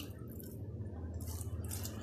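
Boiled sooji vermicelli (seviyan) is tipped into a pan for an instant breakfast: a soft wet squish and slippery patter rises over a steady low stove hum partway through, close and moderately quiet.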